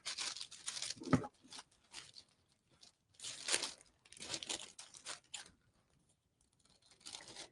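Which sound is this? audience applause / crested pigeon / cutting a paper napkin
cutting a paper napkin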